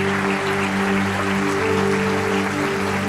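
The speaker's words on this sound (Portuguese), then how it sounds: "Se você crê, dá o seu melhor aplauso ao Senhor Jesus." A church congregation applauds during a worship service, sustained broad clapping layered over a steady humming musical drone, even in volume from start to finish.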